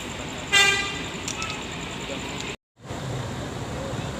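A bus horn gives a short honk as an intercity bus pulls into the departure platform of a busy bus terminal, over a steady rumble of idling engines and traffic noise.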